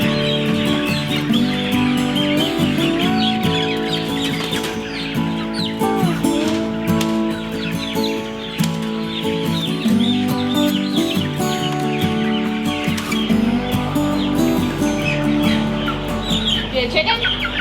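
A large flock of farm chickens clucks and chatters continuously, loud and close, in a dense overlapping chorus with occasional higher calls, apparently inside a poultry house.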